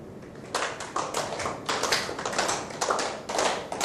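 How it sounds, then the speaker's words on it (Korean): A seminar audience claps in time with a metronome, with a steady rhythm of sharp, closely synchronized bursts of many hands about twice a second, fairly loud and near, with no talking. "박수를 쳐보시는데 맞춰서 한번 쳐보세요"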